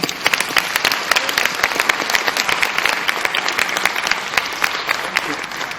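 An audience applauds a conference panel on the jobless economy: sustained, fairly loud clapping from a sizeable crowd, even and continuous throughout, with no talk.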